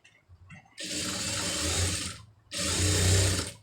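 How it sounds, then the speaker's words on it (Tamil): A sewing machine stitches the lining of a blouse in two loud, steady bursts separated by a short pause, the motor running fast and close. "இப்போ இதில் வந்து ஒரு கால் இன்ச்சு தள்ளி தையல் போட்டுருங்க"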